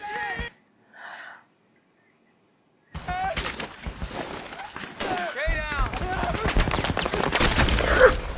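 Battle gunfire from the TV series The Pacific, a rapid crackle of shots and bursts building over a few seconds, heard under excited voices and shouting.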